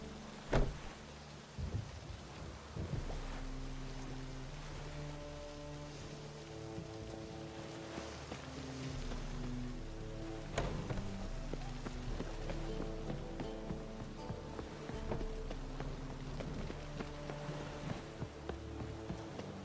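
Rain falls steadily in The Witcher 3, a broad hiss that runs throughout beneath sustained musical tones, with a few sharper knocks along the way.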